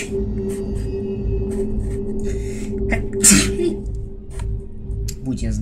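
A single sharp human sneeze bursts out midway through a dim sci-fi shooter scene in Aliens vs. Predator Classic 2000, loud and close over a steady electronic hum and low ambient drone.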